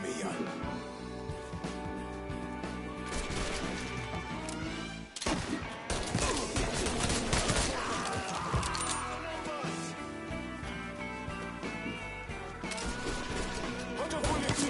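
Dense gunfire rattles through a firefight in Mafia 3, continuous overlapping shots and bursts with clinks and crashes over a music-filled game soundtrack for the whole stretch.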